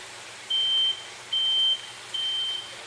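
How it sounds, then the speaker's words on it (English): Smoke alarm going off in a kitchen while meat cooks in a pan: three evenly spaced, steady high-pitched beeps, each about half a second long, fairly faint against a quiet background with no talking. "You might even get a smoke alarm."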